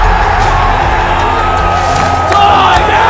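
A large rugby league crowd at Leichhardt Oval roars and cheers continuously, a loud, dense wall of voices with whoops and shouts rising and falling throughout.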